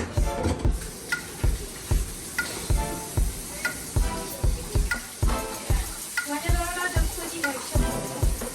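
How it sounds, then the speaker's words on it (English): Eggs frying in a pan for a home-cooked dinner, a steady sizzle running beneath regular rhythmic thumps and background sound, with some talking mixed in. "And then frying the eggs."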